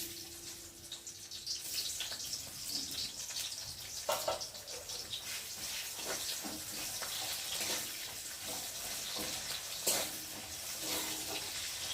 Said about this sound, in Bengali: তেলটা গরম হচ্ছে আর আমি এখন এই যে পেঁয়াজ কুচিটা দিয়ে দেবো